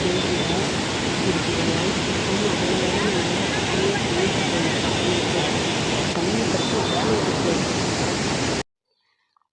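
Heavy water rushes at Mettur Dam in a dense, steady roar of broadband noise, loud and unbroken for most of the stretch before cutting off abruptly into silence near the end; a voice talks under it.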